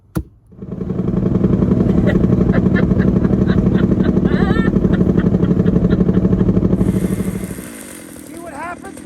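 A powerful chainsaw revs hard and close, a loud, buzzing, high-pitched engine roar held steadily for several seconds before easing back toward idle, with a brief voice heard over it.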